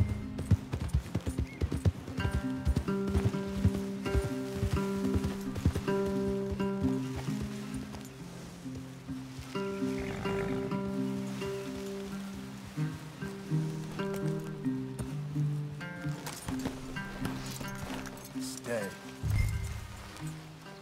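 Horses in the Red Dead Redemption 2 game: rhythmic clip-clop of hooves, strongest at the start, with a whinny, patter of rain and music underneath while people talk.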